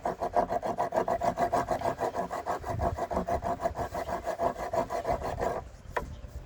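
Rapid back-and-forth rasping of hand sanding resin drips with a sanding pad repeats in a fast, even rhythm, then stops near the end, leaving quiet.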